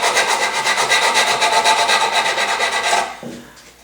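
A scrap of wood wrapped in sandpaper scrubs the corners of a wooden harp in quick, rhythmic, close rasping strokes for about three seconds before stopping abruptly.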